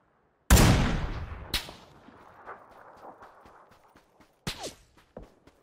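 Gunfire from an enemy player in PUBG on console: a loud close shot with a booming tail, a second sharp crack about a second later, then a quieter pair of shots near the end amid faint rustling.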